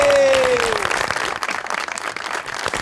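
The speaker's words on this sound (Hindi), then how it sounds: "पहले तालियां हो जाएं।" A studio audience at a Pakistani television comedy show breaks into applause and cheering, a dense crowd of clapping following a brief falling musical tone at the start.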